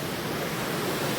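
Water gushing and pouring like a small waterfall inside a mountain temple, where melting ice feeds the flow; a steady, loud, broadband rush that continues unbroken with no voices.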